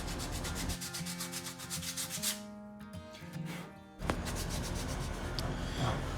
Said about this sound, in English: I start sanding, and this is where most of my time is spent